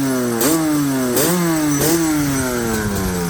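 Yamaha Banshee ATV two-stroke engine running loud and close, with three sharp throttle blips rising and falling before settling back to a steady buzzing idle.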